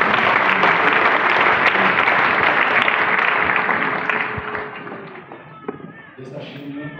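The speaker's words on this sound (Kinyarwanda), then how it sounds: "Tugukomeye amashyi menshi." Church congregation applauding loudly, a dense steady wash of many hands clapping that gradually fades over several seconds and thins to scattered claps at the end.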